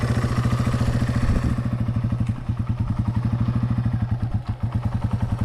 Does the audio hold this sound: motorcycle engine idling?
yes